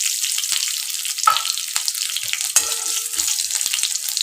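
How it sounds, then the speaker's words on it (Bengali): Chopped garlic fries in a pan with a bright, airy sizzle, broken by a few sharp crackles and clinks as it spits in the hot oil. "এবার এর মধ্যে রসুন কুচি দিয়ে দিলাম।"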